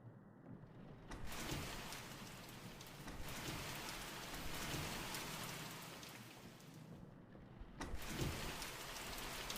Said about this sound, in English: I love the rain sounds in this game